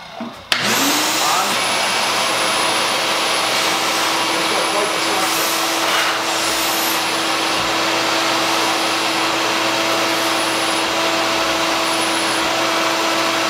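RIDGID shop vacuum with built-in blower attachment switching on with a sharp start, then a steady loud motor whine and rushing airflow running continuously, with a few faint clicks over the drone.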